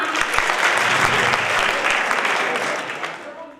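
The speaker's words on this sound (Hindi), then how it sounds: "जोरदार तालियां" Audience applause at a college cultural function in India, a burst of loud, dense clapping that holds steady and then fades near the end, with no voices over it.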